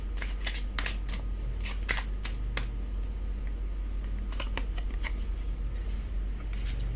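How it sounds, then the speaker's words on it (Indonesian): Tarot cards are shuffled and drawn during a reading, giving a steady run of crisp, papery riffling snaps and flicks, close and clear, with no voices over them. "Kita akan buka 3 kartu terakhir."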